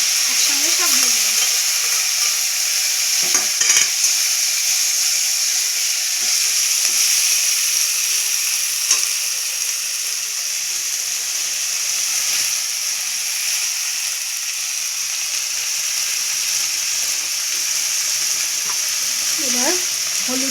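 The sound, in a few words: onion, ginger, garlic, chili paste and tomato frying in a pan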